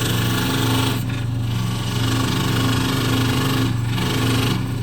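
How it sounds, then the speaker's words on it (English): A scroll saw cutting a wooden workpiece, its blade guard resting on the wood, running as a steady, loud motorised buzz with a low rhythmic hum, uninterrupted for the full stretch and brief dips in the hiss. "once I've used the scroll saw to trim this side of the workpiece"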